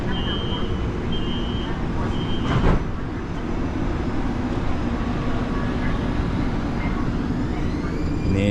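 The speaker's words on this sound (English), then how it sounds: "Train is about to move." A light rail train pulls away from Bland Station in Charlotte's South End, a steady low rumble and hum of the railcar filling the clip, with a brief higher whine and a short burst near the middle, and voices murmuring faintly underneath.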